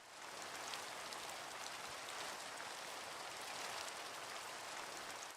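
Steady rain hiss from a C++ Minecraft clone video game, a dense, even wash of falling rain that stays constant and fairly loud throughout with no voices.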